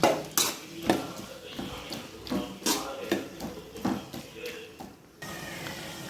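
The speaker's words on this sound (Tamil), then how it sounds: "வெட்டி வச்சுருந்த தக்காளியும் அதில் போட்டுடணும். போட்டு இப்போ நல்லா இதை கலரி விடணும்." Chopped tomatoes stirred into sautéed onions in a pan for poondu vatha kuzhambu, with a series of spoon knocks and scrapes against the metal pan, close and intermittent, under a person talking.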